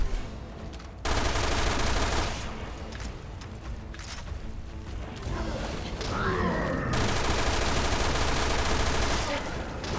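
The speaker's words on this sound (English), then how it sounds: "I don't know if there's any point in firing at him like that" Sustained gunfire at an enemy in the Resident Evil Revelations 2 video game, dense and continuous with mechanical clatter, loud and close throughout with a brief pause near the start.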